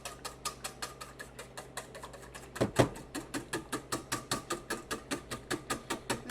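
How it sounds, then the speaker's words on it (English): Two eggs whisked briskly in a bowl for breakfast: a steady run of quick, even clicking strokes with one heavier clatter partway through, close and moderately quiet, with no talking. "I'm going to take 2 eggs, I'm going to stick it in here in the bowl here, and I'm just going to whisk them up a little bit."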